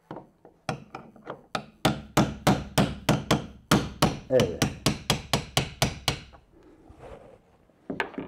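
A hammer taps at a wick assembly being removed, striking about twenty sharp, evenly spaced blows in a steady rhythm. The blows are loud and close, then pause before one last knock. A voice briefly speaks.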